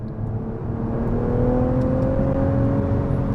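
A Nissan car with ATTESA-ETS all-wheel drive pulls hard out of a curve, its engine a steady, loud drone that climbs slowly in pitch as the revs build, with no talking.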